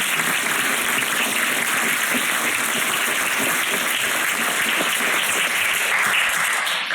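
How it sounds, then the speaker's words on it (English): A seated audience gives author Julian Barnes a round of applause at a literary conversation event, with dense, even clapping that holds steadily for the whole stretch, loud and with no voices over it. "a round of applause for Julian."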